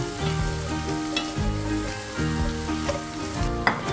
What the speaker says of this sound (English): Some olive oil. Let's fry up those eggplants.